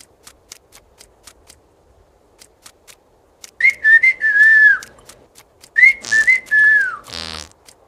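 A person whistles two short rising-and-falling melodic phrases, loud and close, after a stretch of faint ticking clicks, ending with a brief buzzy rattle.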